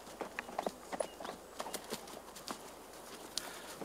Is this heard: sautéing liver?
no